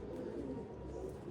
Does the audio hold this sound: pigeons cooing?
yes